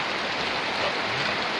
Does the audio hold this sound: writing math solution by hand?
no